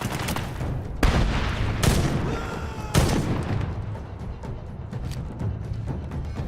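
Frag grenade explosion and gunfire in Medal of Honor (2010): several heavy blasts at roughly one-second intervals over a dense, continuous rattle of rifle fire.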